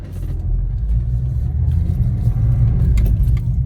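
A BMW E46 being driven rumbles with a steady, loud engine drone and road noise, close and continuous with no talking.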